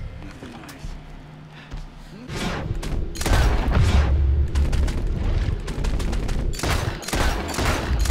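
Gunshots in Red Dead Redemption 2 ring out as a rapid series of loud, close cracks and booming blasts that come in clusters across several seconds, with some talk in between.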